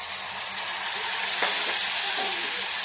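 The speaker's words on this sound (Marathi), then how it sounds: "उकळलेलं पाणी आपण त्या मसाल्यामध्ये सोडून घ्यायचं थोडंसं" Boiled water splashed into hot sizzling masala of tomato for a spicy jackfruit curry, a loud continuous hiss and sizzle throughout with a brief clink near the middle.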